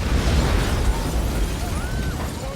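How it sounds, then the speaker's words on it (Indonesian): A bomb blast tearing down an old colonial building, heard as a sustained, heavy rumbling roar of explosion and collapsing debris, loud and continuous throughout with faint higher whistling tones on top. "sebuah bom, yang tak lama kemudian meledak dan menghancurkan seluruh bangunan kolonial tersebut."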